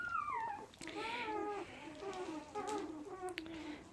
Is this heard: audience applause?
no